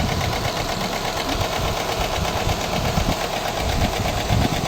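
A Renault Megane 1.5 dCi diesel idles rough on three cylinders with faulty injectors, a close, continuous clattering rumble with uneven, shaking pulses.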